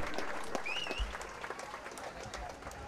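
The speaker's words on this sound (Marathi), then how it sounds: "दोन्ही फलंदाजांसाठी एकदा जोरदार टाळ्या होऊन जाऊ द्या" A crowd at a cricket match claps steadily for the two batsmen, a dense patter of many hands at a moderate distance, with a brief high whistle partway through.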